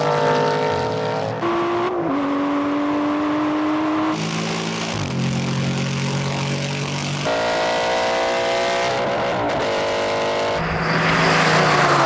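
A racing car engine roars loud and close in a drag race, revving up through the gears in rising whines, with brief drops between shifts.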